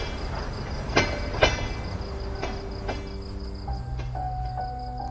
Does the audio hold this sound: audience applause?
no